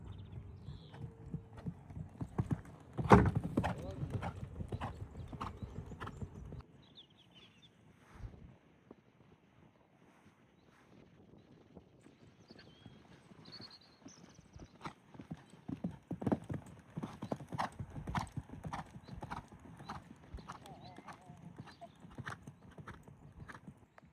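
Horse hooves clip-clopping at a trot during a jumping lesson in a riding stable, a steady rhythmic beat with a louder burst early on, then quieter and resuming at a brisk pace.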